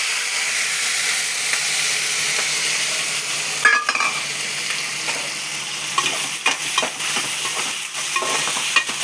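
Onion, tomato, green chilli, mustard seeds and cumin fry in hot oil with a steady close sizzle, broken by a few sharp crackles and spoon-stirring knocks toward the end.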